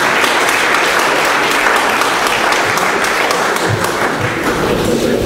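Warm audience applause at an awards ceremony for school sports results, a steady dense wash of clapping that stays loud and even from start to finish, with a few heavier thuds mixed in.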